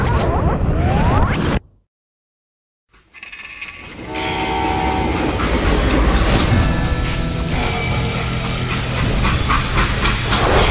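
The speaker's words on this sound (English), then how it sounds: "how'd they stop this train in the first place?" Train in the video game Call of Juarez Gunslinger: a loud rumble and screech, a sudden drop to near silence, then a heavy rolling freight train with whistle-like tones and rattling cars.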